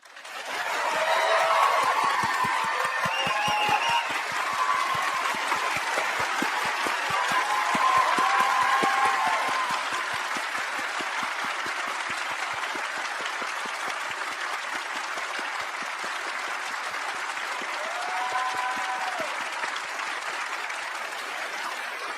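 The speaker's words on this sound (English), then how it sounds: "I would ask everybody to cheer these people." An audience claps steadily for investigators at a press event, a dense sustained applause lasting throughout, with faint cheers and whoops rising above it, loud and close, easing slightly toward the end.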